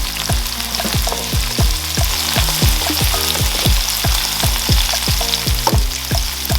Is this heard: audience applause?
no